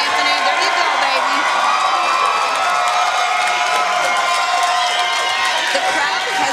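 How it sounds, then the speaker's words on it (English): A wrestling crowd at an NWA Powerrr National Title show roars and whoops for wrestler Mayweather, a dense, unbroken wall of cheering and shouting that stays loud from start to finish with scattered yells on top. "The crowd has not stopped cheering for Mayweather since he walked through that curtain."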